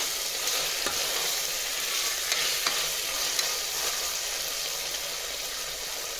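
Ginger garlic paste fries in a pan with a continuous, even hiss, broken by a few faint stirring clicks. The sizzle is close and steady, and no one speaks.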